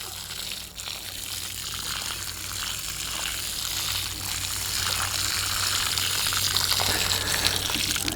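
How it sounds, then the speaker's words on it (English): Water gushes steadily from a hose onto soil around a newly planted tree, a continuous close hiss and splash that grows slightly louder as it runs, with no talk. "And I'm going to water this puppy in."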